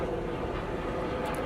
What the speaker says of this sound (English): we're gonna wait till this helicopter goes away.